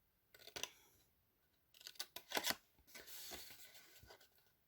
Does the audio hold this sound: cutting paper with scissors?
yes